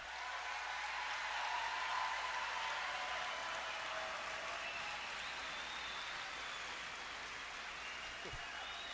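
A large crowd at a Donald Trump rally in Birch Run cheers and applauds in a steady, distant roar of massed clapping and voices that holds at an even level throughout.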